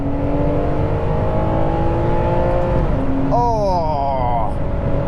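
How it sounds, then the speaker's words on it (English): A Ferrari 599 GTB's V12 engine howls loudly from close by, holding a steady drone, then a quick gear change and a rising, screaming rev as it pulls through the next gear. "I just want to go up and down the gears all the time for no reason, just so I can hear that engine scream"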